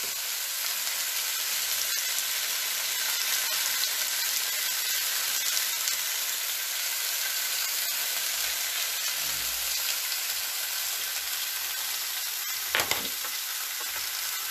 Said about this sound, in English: So on my griddle, I've got that turned all the way up because I want a nice little sear, little crust, little color.